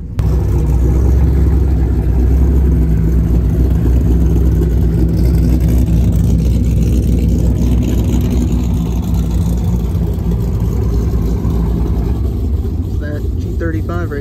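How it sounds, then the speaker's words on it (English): A twin-turbo Corvette engine rumbles loud and steady at a gas station during a street-racing meet, a deep continuous drone with people talking over it. "Right there is twin turbo."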